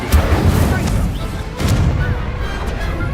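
Fire spell bursts during a wizard duel in Hogwarts Legacy, two loud booming blasts with crackling, whooshing fire over a dense, noisy game soundscape.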